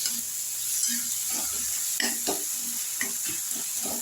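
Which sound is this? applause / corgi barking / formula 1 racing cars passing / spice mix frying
spice mix frying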